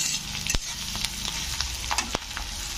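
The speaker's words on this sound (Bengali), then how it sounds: "পেঁয়াজকে একটু হালকা ব্রাউন করে ভেজে নেব" Onions and curry leaves fry in a pan for a bottle gourd dish, giving a dense steady sizzle broken by sharp scraping knocks as a spatula stirs them.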